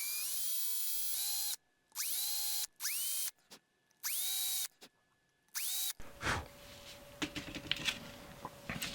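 A small power drill bores holes into a mouse fishing lure in five short whining bursts that rise in pitch as the motor spins up, then rustling and handling noises follow.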